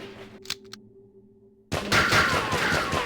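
Burst of Destiny 2 gunfire erupts after a quiet, humming stretch, a dense crackling volley of rapid shots that stays loud and continuous to the end.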